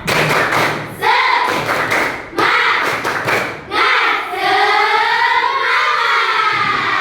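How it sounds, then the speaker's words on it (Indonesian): Students in a classroom repeat the 'tepuk semangat' cheer, clustered rhythmic claps in unison punctuating loud group chanting, ending in a long sustained shouted call from the whole class. "Lagi ya, tepuk semangat."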